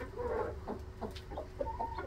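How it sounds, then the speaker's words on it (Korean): A watchful brooding hen on a countryside farm gives soft, low clucks in a short irregular series, fairly quiet and close. "열심히 경계를 하고 있는 암탉."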